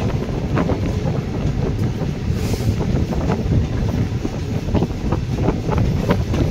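Steady, loud rush of bone-chilling wind buffeting the microphone during a train journey through a valley, blended with a constant low rail rumble and no voices.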